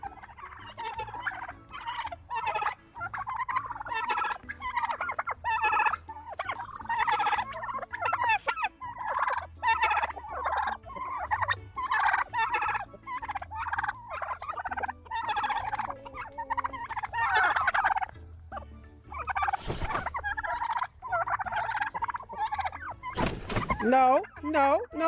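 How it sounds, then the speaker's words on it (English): Farm turkeys let out onto green grass gobble outdoors in steady, overlapping bursts of rapid warbling calls throughout, close and fairly loud, with a few sharper cries standing out. "Turkeys love to eat green grass, so I'm gonna let them out and see what they do today."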